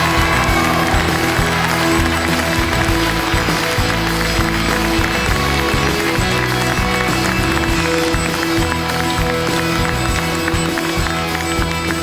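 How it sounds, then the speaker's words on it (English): Dense, sustained applause from a large audience at the 2022 Crystal Apple Awards live show for award winner Lori Neely, a loud continuous wash of clapping with crowd noise and scattered cheers. "please give a huge applause for Lori"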